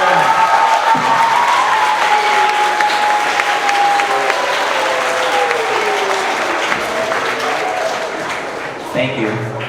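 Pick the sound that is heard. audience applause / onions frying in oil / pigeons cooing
audience applause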